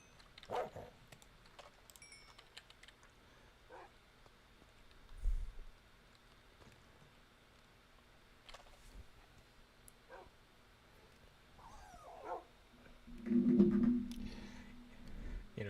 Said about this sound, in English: I'm saying this while I'm near dogs in Minecraft